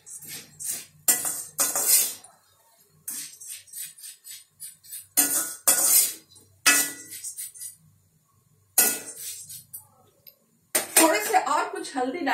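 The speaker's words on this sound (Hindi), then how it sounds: "करछुल से चला लें। करीब 2 या 3 मिनट इसे यूं ही गरम तेल पर भून लें।" A ladle scrapes and clinks against a metal pan while jhal muri ingredients are stirred and roasted in hot oil, coming in several short, bright bursts separated by quiet gaps.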